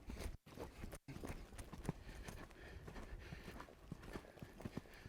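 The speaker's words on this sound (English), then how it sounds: "I'm gonna go ahead and pick up the canter." Hoofbeats of a ridden horse moving up into a canter during a riding lesson, a steady rhythmic clip-clop close by with soft shuffling between strikes and no talk.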